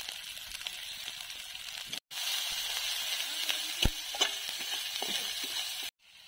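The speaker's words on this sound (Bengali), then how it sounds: "মশলাটা দেখেন কি সুন্দর ভাজা হয়ে গেছে" Spice paste of ground ginger, chili, cumin and coriander with a little turmeric and salt sizzles steadily in hot oil for a crab curry, a close, continuous frying hiss with two brief cut-outs.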